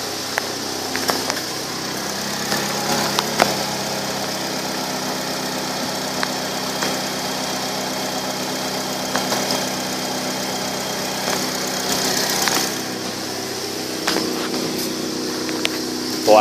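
A 2009 Chevrolet Malibu LTZ sits idling in gear with a steady, even engine hum and faint vibration, broken by a few small clicks and knocks nearby.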